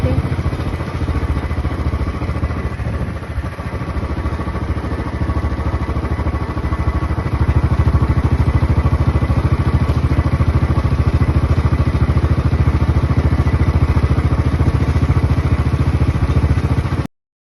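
A Bullet motorcycle engine chugs steadily with a deep, rhythmic thump, close by, growing louder partway through before cutting off abruptly.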